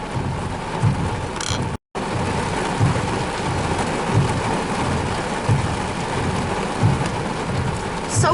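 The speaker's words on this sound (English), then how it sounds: "So far, I'm just observing heavy rain." Heavy rain pours steadily and loudly during a severe thunderstorm in Slippery Rock, a dense hiss with a few louder thumps, briefly cutting out for a moment before resuming.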